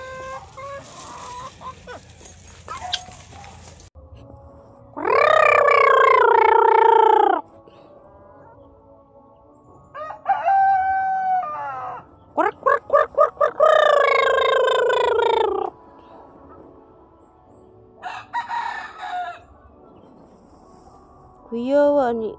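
Chickens and a rooster on a countryside farm at feeding time: loud, drawn-out crows come in several bursts, with clucking and scattered calls in the quieter gaps between them.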